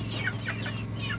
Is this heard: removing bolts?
no